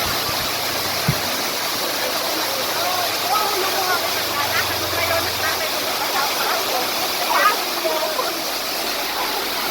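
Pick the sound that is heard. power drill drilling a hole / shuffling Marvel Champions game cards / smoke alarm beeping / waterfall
waterfall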